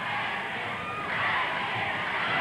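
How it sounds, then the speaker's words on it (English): A wrestling crowd at a Portland match roars steadily while a wrestler is held in a half crab submission, a dense, sustained wash of cheering and shouting. "You hear the crowd, you know what they want."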